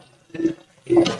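Boiled milk poured into a pan on a medium stove, heard as two short liquid splashing pours close by, separated by a brief pause.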